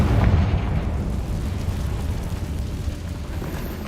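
Confringo spell blast from the Hogwarts Legacy video game: a loud, booming burst at the start that settles into a sustained, dense low rumble with fiery crackle, heard alone without talk.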